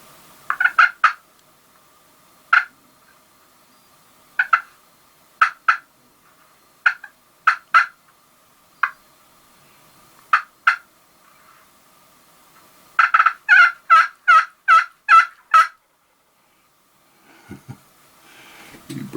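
A wild turkey gobbles repeatedly from far off in open country, sharp rattling bursts in scattered single calls and then a rapid cluster of several, carrying clearly over near silence, with faint low rumbling near the end.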